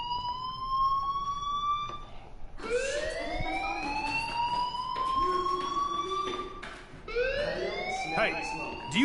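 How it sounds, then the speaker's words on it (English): A fire alarm wails in the video game Life is Strange, its rising and falling electronic tone sweeping repeatedly and loudly, with brief pauses between cycles. "Hey, do you hear that fire alarm?"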